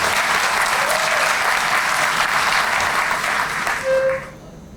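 Audience at a police district community relations awards ceremony applauding officers receiving a special commendation, steady full clapping throughout that stops abruptly near the end.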